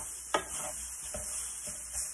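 Jackfruit taco filling cooking down in a pan, a soft steady sizzle with a few light stirring scrapes and taps from a utensil, faint and close.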